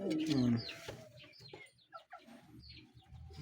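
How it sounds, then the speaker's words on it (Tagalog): Pigeons in a backyard breeder loft coo and flutter softly in the background while someone talks close by. "Yan ang kalapati oh."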